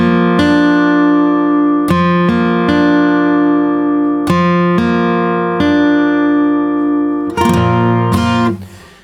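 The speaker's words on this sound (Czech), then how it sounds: "S kaporastrem Hlavatý zní takhle" Several clear strummed and plucked chords ring on an acoustic guitar with a Hlavatý capo clamped on the strings, the notes sustaining between attacks and ending in a quick flurry before dying away, close and solo without speech.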